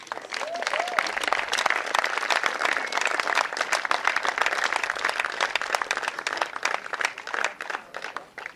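Spectators at a competition applaud a jump with sharp, uneven clapping and some crowd noise, lasting several seconds at a fairly loud, close level, while a voice briefly murmurs underneath.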